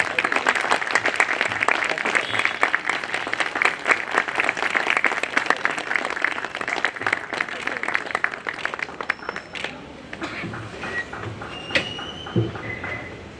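Audience applause at a Bar Council of Delhi enrolment meeting, with dense, sustained clapping from many hands for about nine seconds before it thins into scattered claps and room noise.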